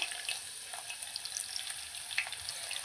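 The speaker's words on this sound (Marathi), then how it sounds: "दोन चमचे तेल टाकणार आहे त्यामध्ये आपण आधी लसूण ॲड करूया" Finely chopped garlic frying in two spoonfuls of hot oil for hotel-style dal tadka, a continuous bright crackling sizzle with small pops, close and steady, no voices.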